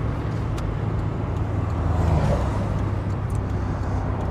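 Firefly car driving along under a steady, loud engine and road roar, continuous and close, with wind-like broadband noise throughout and no talk.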